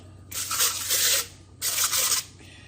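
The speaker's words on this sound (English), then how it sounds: "And then I'm gonna spray it a little bit" Cooking spray hisses from a can onto food in an air fryer pot, two steady bursts about a second each with a brief pause between, loud and close.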